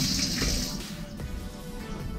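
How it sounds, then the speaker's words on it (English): Tap water running over hands being rinsed, a soft steady splashing stream close by that thins out partway through. "let me rinse my hands off real quick."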